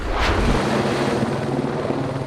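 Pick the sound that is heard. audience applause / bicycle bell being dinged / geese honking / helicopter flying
helicopter flying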